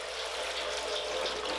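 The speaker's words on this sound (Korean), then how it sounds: "보글보글 술이 맛있게 익어가는 소리 잘 들리시죠?" Black rice wine fermenting in a crock, giving a steady, close, fizzy bubbling hiss with no talk over it.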